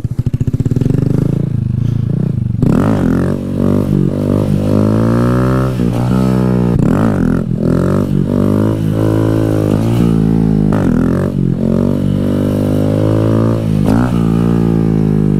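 A motorcycle with a bent rotor and a front-end problem rides at an abandoned bridge stunt spot, its engine loud and close, revving up and down repeatedly in second gear.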